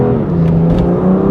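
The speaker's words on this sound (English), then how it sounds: "So twin turbo, straight six, makes a decent noise." Loud, close twin-turbo straight-six engine of a 2020 BMW M2 Competition DCT revving with a deep, rising growl and whirring harmonics, sustained throughout with no talking.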